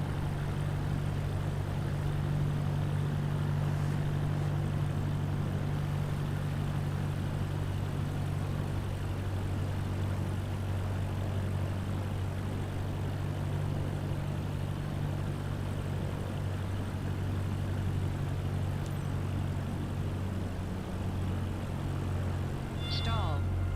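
Airplane engine in Microsoft Flight Simulator 2024, a steady low propeller drone that holds evenly throughout and slightly softens near the end.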